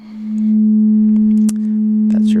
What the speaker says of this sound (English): That's your sine wave.